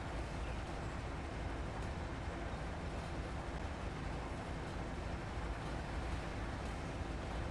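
A freight train in the Train Sim Pro railroad game rolls past as a steady, dense rumble with clattering wheels, holding loud and even from start to finish with no talking.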